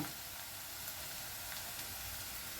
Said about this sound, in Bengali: এই রকম পেঁয়াজটা ভাজা হলেই হবে